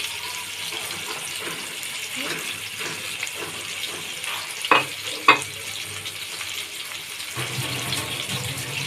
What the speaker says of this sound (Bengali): মাছটি দিয়ে আমি একটু সময় নিয়ে ভালোভাবে ভেজে নেব